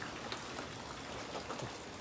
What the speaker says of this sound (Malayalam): അതാ നോക്കി നല്ല മഴയാണ്, പെരും മഴ.